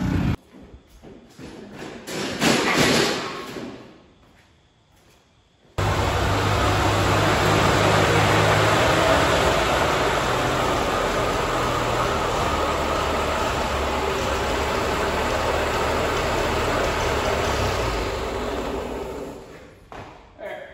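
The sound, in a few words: power washer rinsing down a tractor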